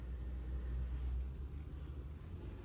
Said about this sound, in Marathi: महेशराव इकडे गाडी चालवत आहेत